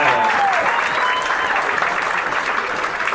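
A crowd at the Ring 44 2018 induction gathering bursts into sustained, dense applause that stays loud and steady throughout, a full room of clapping hands with no pauses.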